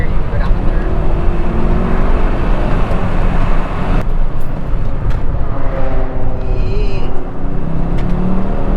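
A car powers through the tight winding turns of the Tail of the Dragon mountain road, its engine and road roar loud and steady throughout, with people talking inside over it.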